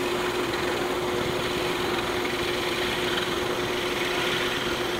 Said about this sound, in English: I will drill a 1 1/8 diameter through hole in both of our pieces.